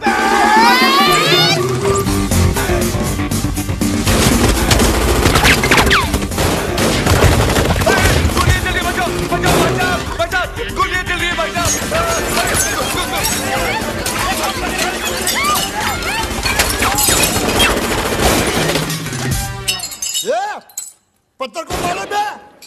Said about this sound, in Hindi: गोलियां कौन चला रहा है रे?